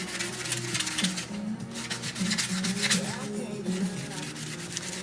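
A craft piece is hand-sanded with steady, close rubbing and scraping strokes that continue without a break.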